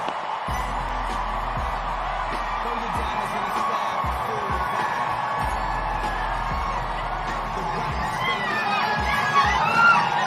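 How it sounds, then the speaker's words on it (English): A large crowd cheers and whoops at the U.S. Open as Serena Williams walks onto the court, a loud sustained roar with scattered shouts throughout. "Check out the crowd at the U.S. Open when Serena Williams walks on the court."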